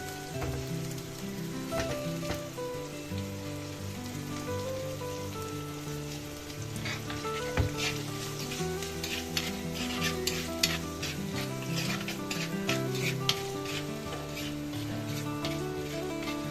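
Fish curry masala with onion, salt and roasted ground coconut is stirred in a pan. It makes a continuous sizzle with repeated scraping and clinking strokes, close and steady, and no one talks over it.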